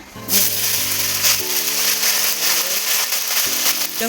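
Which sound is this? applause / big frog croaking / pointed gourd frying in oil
pointed gourd frying in oil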